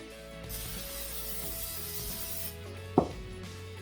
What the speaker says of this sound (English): We're going to give it one more coat with the non-stick spray.